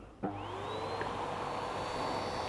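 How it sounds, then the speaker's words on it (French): An Apiaspi bee vacuum, an electric suction device for collecting a bee swarm, starts with a click. Its motor then spins up into a steady, rising whine and runs on continuously. "Je vais brancher l'aspirateur sur les secteurs"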